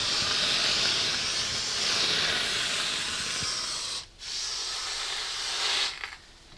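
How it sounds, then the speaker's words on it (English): A steam iron hisses steadily while pressing clothes, a loud, close, continuous rush that cuts out briefly twice near the end before resuming. "Slowly getting used to the iron."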